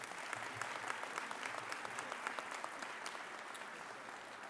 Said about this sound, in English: I'd now like to clap